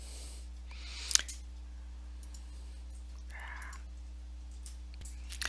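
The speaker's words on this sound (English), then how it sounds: "we're going to go over here and click OK" A computer mouse clicks OK in Ham Radio Deluxe software: a couple of sharp, close clicks separated by several seconds of quiet room hum, with no speech.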